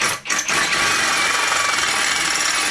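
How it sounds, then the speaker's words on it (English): A power drill with a fresh bit and lubricant whines steadily at close range cutting a hole in a car's exhaust cat pipe after a couple of brief starts, a sustained high-pitched grinding that cuts off abruptly. "after getting a new not-so-blunt drill bit and some extra lube, he made short work of the cat pipe"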